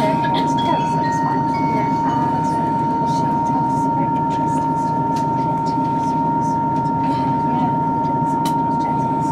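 Inside a moving Great Western Railway train near Bristol Temple Meads, a loud, steady rumble fills the carriage and a constant tone hums through it. Light clicks and rattles sound over the top.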